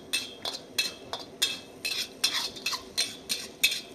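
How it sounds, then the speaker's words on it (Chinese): Onions and curry powder stir-fried in a pan, heard as about ten rhythmic scraping and clinking strokes of a utensil against the pan over a soft background, with no talking. "现在油热了呢，就把洋葱呢下锅啊来煸炒"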